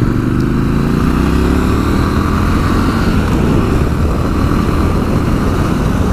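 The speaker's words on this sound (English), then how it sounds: "the engine note is absolutely lovely on this course. It's got the 270 degree crank" A 2019 Triumph Scrambler 1200 XE with a 270-degree crank twin rumbles steadily on the move, its engine note loud and constant under wind rush, with no talk.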